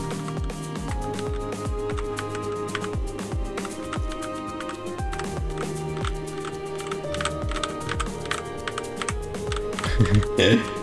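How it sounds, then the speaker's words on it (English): Computer keyboard keys tapped in a steady, rapid stream of small clicks while steering a glider in a game, continuing close and fairly quiet for the whole stretch with a brief denser flurry near the end. "Constant readjustments on a keyboard."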